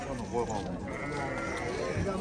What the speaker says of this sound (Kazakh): Мынау еркек екен қозы.